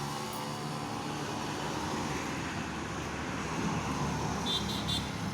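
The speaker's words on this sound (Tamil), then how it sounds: "வண்டி போயிட்டே தான் இருக்கும்." Vehicles pass steadily on a very busy road, a low continuous rumble that stays fairly faint and distant, with a brief horn-like tone near the end.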